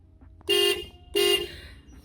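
Two short, loud car horn honks from a Toyota TE72 wagon, evenly spaced about half a second apart, close by with quiet between.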